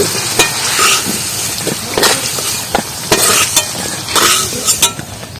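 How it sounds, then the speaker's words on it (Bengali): Potatoes sizzle in hot oil while a utensil repeatedly scrapes and clinks against the pan, close and lively. "একদম ভাজা ভাজা করে নিয়েছি আলুটা"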